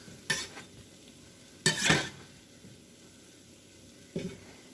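Puff puff dough frying in hot oil, heard as three separate bursts of sizzling and stirring scrapes set apart by quiet gaps, close and fairly soft.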